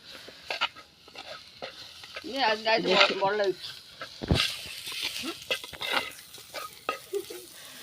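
Tomatoes sauté in oil in a pan for sardine curry, a crackling sizzle with repeated stirring clatters, while a voice speaks over it and a sharp knock lands near the middle.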